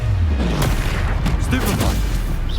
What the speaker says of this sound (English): Protego! Stupefy!